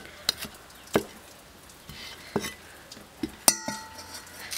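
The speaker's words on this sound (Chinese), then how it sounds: "然后再切辣椒，就是青辣椒。" A knife chops green chili peppers on a cutting board in a home kitchen, a handful of sharp, separate taps spaced irregularly, close and crisp over quiet background.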